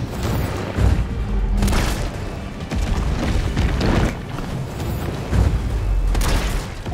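Gunshots from the Resident Evil 3 Remake video game boom out as several heavy, spaced blasts over a dense, rumbling in-game background, with no talking.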